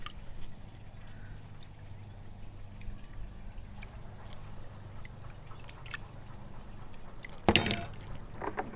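A spoonful of molasses drops into a bucket of compost tea with a brief splash and liquid slosh near the end, preceded by a quiet bubbling, watery background.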